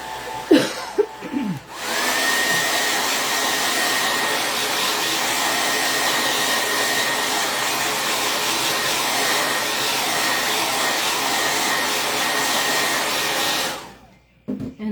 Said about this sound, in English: I'm about to blow dry, so it's going to get loud.